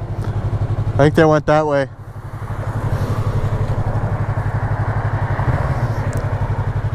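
A motorcycle engine runs steadily nearby with a low rumbling drone and mechanical clatter, swelling slightly as it moves, while someone speaks briefly near the start.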